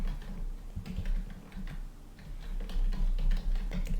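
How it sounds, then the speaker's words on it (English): Rapid, uneven clicking of fingers typing on a computer keyboard, close and fairly quiet, with keystrokes bunching into short bursts and no voices. "we can manually add this in if we just type with the keyboard"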